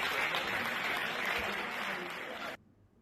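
A crowd applauds and cheers as prisoners walk into prison, the dense clapping loud and steady for about two and a half seconds before cutting off abruptly to near silence.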